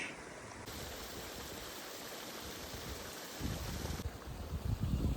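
Steady rushing water flows continuously through an irrigation canal in a Tamil Nadu village, a broad hiss that grows louder and rougher toward the end, with no voices.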